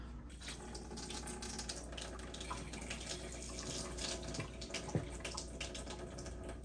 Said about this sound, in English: So what I'm going to do now is turn the water on.